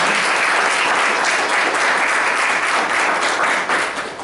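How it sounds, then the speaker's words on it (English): Loud, sustained applause from an audience at a press conference in Jamaica, a dense wash of clapping that tapers off slightly at the end. "So give them a big round of applause."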